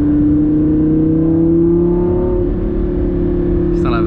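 A Lamborghini Gallardo Superleggera LP560 engine holds a loud, steady drone that climbs slightly in pitch, close and continuous, with a brief extra sound just before the end.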